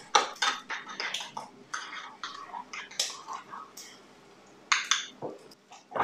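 Spoon scraping and clinking in a bowl while red food colouring is mixed into mashed potato, a run of irregular close scrapes and taps with soft breathy sounds between.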